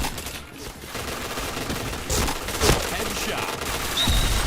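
Rapid gunfire in a first-person shooter video game, sharp repeated shots in quick bursts with a reload click, loud and close, with a voice talking over it.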